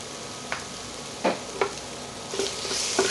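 Tamarind spice powder being stirred into dosa upma in a pan, giving a soft steady sizzle broken by a few brief scraping strokes of a spoon against the pan, close and fairly quiet, with no voices.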